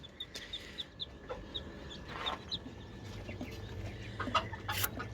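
Newly hatched Chinese quail chicks peep in short, thin chirps, scattered and fairly faint against a steady background hum, with no talk.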